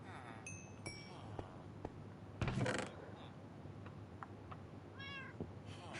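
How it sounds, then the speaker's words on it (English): Several cats meow in the video game Reanimator, short rising harmonic calls scattered over a steady low game hum, with a brief clinking burst midway and a clearer cat call near the end. "Goddamn cats."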